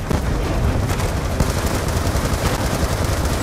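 Sustained automatic gunfire from an extended-magazine gun in the Black Ops 2 campaign level Old Wounds, a loud continuous rattle of rapid shots with heavy low rumble, steady throughout with no talk.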